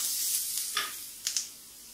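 Ginger garlic paste fries in a pan with a soft, steady hiss, broken by a few brief scrapes of a spoon, close and fairly quiet.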